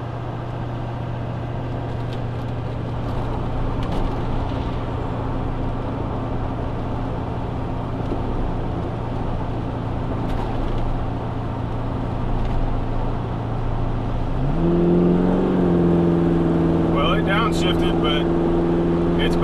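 A 2002 LB7 Duramax diesel pickup with Banks intercooler upgrades drones steadily while climbing a highway hill at about 65 to 70 mph with the AC on, its pitch stepping up sharply near the end as it shifts gears, with road and cabin noise around it.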